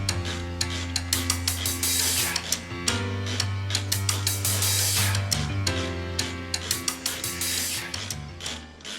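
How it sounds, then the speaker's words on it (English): Repeated ratcheting clicks and metallic tool noises while new blades are fastened onto a lawn mower, close and fairly loud, with a low mechanical hum running underneath. "Let's put the new blades on, take it back and put it on."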